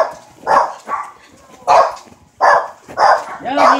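A dog barks and yips in several sharp bursts, close and loud, with short pauses between them and some whimpering in between.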